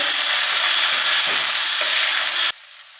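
Chopped tomatoes fry in a hot pan, a loud continuous sizzle with stirring that cuts off abruptly near the end, leaving a quieter background.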